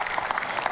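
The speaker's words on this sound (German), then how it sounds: "Ja doch, die komplette Fraktion klatscht bei dieser Aussage." A parliamentary party group applauding a speech, a brief, steady patter of many hands clapping together at moderate distance.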